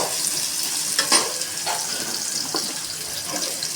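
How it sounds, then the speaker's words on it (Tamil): Three chopped onions sautéing in a pan just after mustard seeds have popped, for an aubergine and raw mango sambar: a soft steady hiss with scattered scraping stirs, close and moderately quiet. "கட் பண்ணி வச்ச மூணு வெங்காயத்தை சேர்த்துக்கணும் சேர்த்து நல்லா வதக்கணும்"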